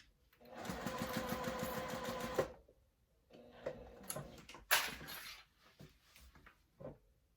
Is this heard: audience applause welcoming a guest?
no